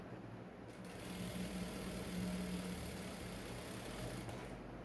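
Sewing machine joining the shoulder region of a collar facing on a female camp notched collar, a steady continuous machine whir with a faint buzzing hum throughout, alone with no talking.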